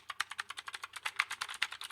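Rapid, steady keystrokes on a clicky-switch Bluetooth mechanical keyboard, each press a sharp, close click in a quick even rhythm with no talking.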